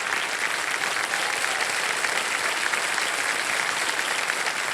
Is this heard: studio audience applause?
yes